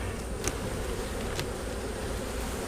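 Honey bees buzz steadily inside an over-wintered hive, a dense continuous drone close up with a couple of brief sharper insect passes.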